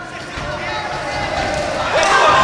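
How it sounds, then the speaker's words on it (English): A crowd in a fight hall cheers for two fighters, split between both sides, a steady roar of voices that swells louder toward the end, with a commentator talking over it. "One side of the hall cheering for Toole, the other half cheering for Martin Chester"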